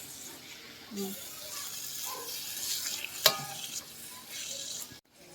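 Tomato curry being stirred in a pan, with scraping and soft sizzling, a sharp clink partway through, and people talking intermittently before the sound cuts off abruptly.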